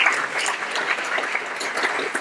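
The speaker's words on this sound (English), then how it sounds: "give all these guys a big round of applause." Audience at a design presentation clapping for contestants on stage, a steady, dense patter of many hands heard from within the room, with no talk over it.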